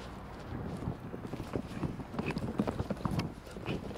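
Horse hooves thud on soft ground in an uneven rhythm during a jump, under steady wind noise, heard from a moderate distance.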